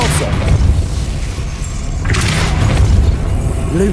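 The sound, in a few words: Depulso spell cast in video game Hogwarts Legacy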